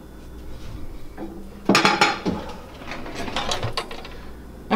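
A kitchen silverware drawer slides open with a loud clattering jingle of cutlery and metal, preceded by a brief scrape and followed by lighter rattles and clinks, close by and without talk.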